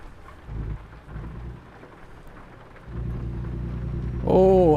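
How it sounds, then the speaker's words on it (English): Rain and rolling thunder from American Truck Simulator form a steady, low, rumbling wash that swells partway through. A voice cuts in briefly at the very end. "Oh, now it's raining."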